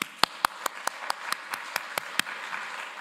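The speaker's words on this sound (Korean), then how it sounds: "그렇게 인도하신 하나님께 감사의 박수, 영광의 박수 올려드립니다" Scattered, sparse clapping at a Korean church dedication service, a dozen or so sharp individual claps in a loose, uneven rhythm, fairly close and otherwise quiet between them.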